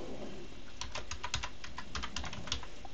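Someone types an Ender-3 printer setup command on a computer keyboard: a run of quick, irregular clicks up close, some bunched and some spaced apart, with no talking.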